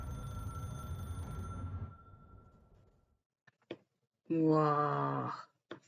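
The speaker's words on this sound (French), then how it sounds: "Ce téléphone qui sonne, ça me fait penser à Scream." A telephone rings within a K-pop song as the music cuts away, leaving one clear ring trill alone after a brief pause, loud and close.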